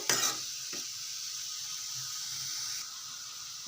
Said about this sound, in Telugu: ఒక టెన్ మినిట్స్ అలా బాగా వేయించుకోవాలి మనకు పచ్చి వాసన పోయే వరకు